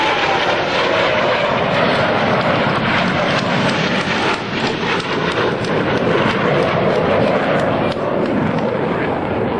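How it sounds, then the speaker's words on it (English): US Navy Blue Angels jets roaring past in an opposing knife edge pass at the 2003 New York International Airshow, a loud, continuous, rumbling jet engine roar filling the whole stretch. "roll their aircraft into a 90-degree angle of bank and push forward on the stick as they perform the opposing knife edge pass"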